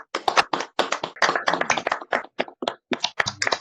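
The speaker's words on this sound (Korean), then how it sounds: "축하 박수 부탁드리겠습니다." Audience clapping at an anniversary ceremony for an essay magazine's award presentation, a moderate crowd applauding with uneven, dense hand claps, close and steady, briefly swelling then thinning.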